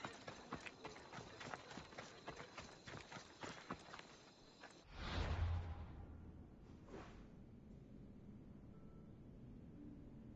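Horse hooves clip-clop at a steady walking pace in Assassin's Creed Odyssey, close and continuous for several seconds, then a whoosh swells and the scene falls to a quieter ambient hum.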